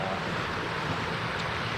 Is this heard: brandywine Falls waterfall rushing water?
yes